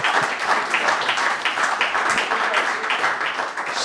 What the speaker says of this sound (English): That's the first time he's ever had applause for the news